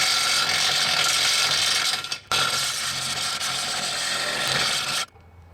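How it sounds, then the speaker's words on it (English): A step drill bit cutting through a power trailer jack mount gives a loud, steady grinding rasp of metal that breaks off briefly, resumes, then stops near the end. "I got a step bit, which is also really not the right tool,"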